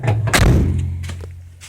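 A van door in a camper van build swings shut with a single solid, close slam. A low resonant thud lingers after it, followed by a couple of faint knocks.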